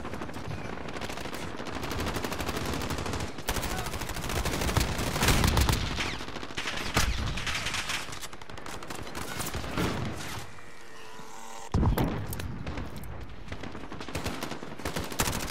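Automatic weapon fire in the video game Call of Duty: Modern Warfare, loud rapid bursts and sustained rattling volleys with brief pauses, one sharp gap near the end before firing resumes.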